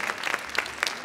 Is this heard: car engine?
no